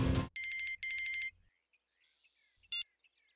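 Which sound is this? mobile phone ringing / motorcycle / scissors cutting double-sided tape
mobile phone ringing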